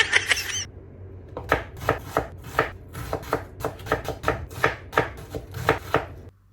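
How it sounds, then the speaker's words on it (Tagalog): Garlic and onion chopped on a board: a steady series of crisp knife strikes, about a dozen distinct chops in an uneven rhythm, close and fairly loud, with no voices. "At hihiwain ko na nga itong bawang at sibuyas"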